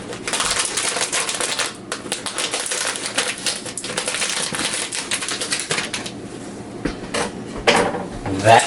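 Scissors cut open a plastic bag of breadcrumbs in a home kitchen, with close, continuous crinkling and rustling of the plastic plus sharper snips and rattles throughout.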